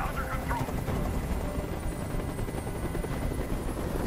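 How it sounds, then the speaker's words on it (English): A helicopter hovers close overhead, its rotor thudding in a loud, continuous rapid chop with engine whine, steady for the full stretch with no voices clearly above it. "Tell that helicopter to get out of here."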